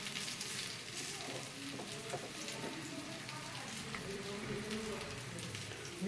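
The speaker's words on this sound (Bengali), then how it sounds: "পনির রোল লাল করে ভাজবো" Paneer rolls frying in hot oil, a steady soft sizzle and crackle running throughout at moderate level, with faint clinks near the end.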